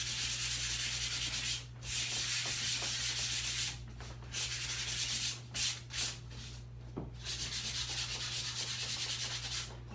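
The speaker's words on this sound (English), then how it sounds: "hit it with a sandpaper a little bit" Sandpaper rubbed over a painted birch wood Christmas ornament: steady, close scratchy strokes running almost continuously, broken by a few short pauses.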